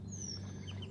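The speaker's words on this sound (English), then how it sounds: "Birds are singing." Birds chirp and call faintly in the distance on a dewy, humid morning over a lawn, with a steady low hum running beneath the brief high tweets.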